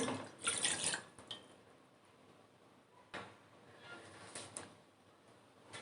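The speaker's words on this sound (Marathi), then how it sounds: "त्यामध्ये आपण दोनशे मिली पाणी ॲड करणार आहोत" Water, about 200 ml, pours into a pot heating on the stove for steaming dough for ukadiche modak. It comes as a short splashy burst at the start, then quiet clinks and drips, with no one talking.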